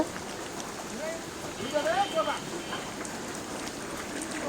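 Steady rain hisses down outdoors while beef curry cooks for guests, a constant close wash of drops on surfaces with faint voices briefly rising in the middle.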